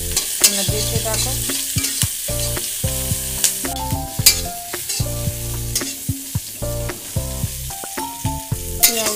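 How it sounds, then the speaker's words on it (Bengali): Chopped onions fry in a pan with a continuous low sizzle, punctuated by frequent rhythmic scrapes and clanks of a spatula stirring against the metal, fairly close and with no voices. "পেঁয়াজ কুচি দিয়ে দিলাম, একটু ভেজে নেবো পেঁয়াজগুলো"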